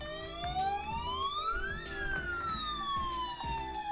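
Police sirens in The Legend of Heroes: Zero no Kiseki wail loudly and steadily, a rising and falling electronic tone that sweeps up and back down once over a rhythmic low pulsing game background, with no talk.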